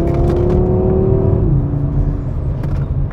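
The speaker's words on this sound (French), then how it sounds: "quand on active ce mode, voilà, vous l'entendez sans doute, l'échappement se fait beaucoup plus présent" Audi RS 3 exhaust in RS Performance mode, a loud, steady engine drone heard from inside the car that shifts pitch midway and settles into a deeper rumble.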